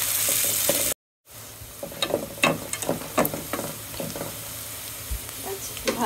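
Whole cinnamon, cardamom and bay leaves fry in hot oil with a continuous soft sizzle. A spoon stirs and scrapes in bursts of clicks and rattles, broken by a brief silent gap near the start.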